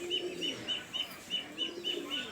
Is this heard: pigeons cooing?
yes